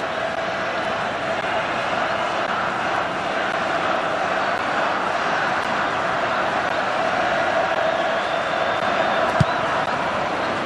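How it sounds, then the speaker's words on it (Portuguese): A large crowd of Colombia supporters roars steadily inside Arena Pantanal in Cuiabá during a 2014 World Cup match against Japan, a dense continuous stadium din with no single standout burst. "todo o som da torcida da Colômbia"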